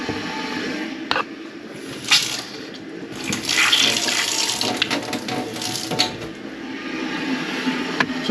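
An undersink water heater fills with water through its plumbing, a steady hiss and gurgle with a few clunks and surges, close by and with no speech.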